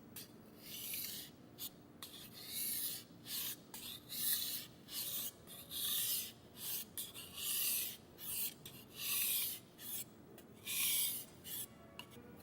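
A kitchen knife is hand-sharpened on a whetstone in a traditional technique, its blade drawn across the stone in a steady series of about a dozen rasping strokes, close and fairly quiet, each with a brief pause between.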